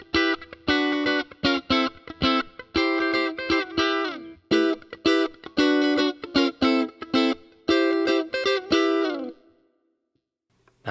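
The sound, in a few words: electric guitar through Fractal preset, graphic EQ on then bypassed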